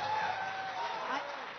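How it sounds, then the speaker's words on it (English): An audience at a conference speech applauds steadily in a continuous, somewhat distant clatter of clapping that holds at an even level throughout. "when I see applause like this"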